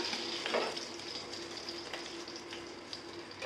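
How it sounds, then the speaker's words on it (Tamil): Fish frying in oil in a pan during home cooking, giving a soft, steady sizzle throughout with a brief stir sound early on, fairly faint and with no talking. "எல்லா மீனும் நம்ம வந்து நல்லா ஃப்ரை ஆகிடுச்சு"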